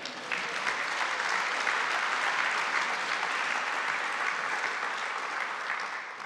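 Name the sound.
conference audience applause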